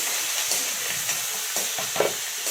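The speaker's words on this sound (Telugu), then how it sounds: "కరివేపాకు, ఉల్లిపాయ ముక్కలు వేసుకొని కలిపేసుకోవాలండి" Chopped onions and curry leaves frying in a pan while being stirred together, giving a close, steady sizzle broken by several scraping, clattering strokes of the spoon, with nobody talking.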